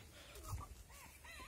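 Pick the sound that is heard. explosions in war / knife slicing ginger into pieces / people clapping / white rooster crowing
white rooster crowing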